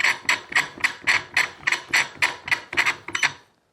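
A threaded metal post turned into a paver support bracket, giving about a dozen evenly spaced clicking, ratchet-like ticks, close and crisp, with no talking.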